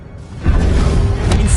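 Protego shield spell cast in the video game Hogwarts Legacy, a rising whoosh that swells into a loud, sustained rumbling magical hum lasting over a second, with no talking.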